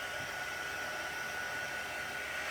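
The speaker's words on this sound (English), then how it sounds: "I'm going to take a my heating gun here, and I'm just going to dry it a little bit" Steady, even hiss of a heat gun blowing hot air to dry freshly decorated background paper, continuous and close with no variation and no talking.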